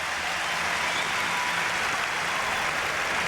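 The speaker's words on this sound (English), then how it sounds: "to say he deserves this round of applause is a huge understatement" A tennis crowd at the 2004 US Open gives Andre Agassi a sustained, dense round of applause, steady and loud throughout with no pauses.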